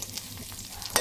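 A tempering hits a pot of cooking deer meat with a brief close sizzle and a sharp crackle at the end, no voices.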